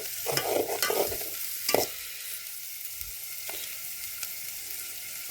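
Garlic frying in a pan on a wood-fired stove, a steady close sizzle broken by a few sharp scraping stirs, loudest at the start, with no talking.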